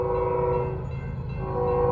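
A northbound Norfolk Southern freight train on the Charlotte District sounds its horn in a steady, loud multi-tone blast that holds for two seconds over the rumble of the passing rail cars.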